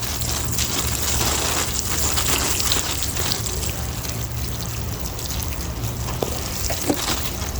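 Water poured over freshly planted scallion pots, a continuous close trickle and splash soaking into fast-draining soil, with a few small drips toward the end.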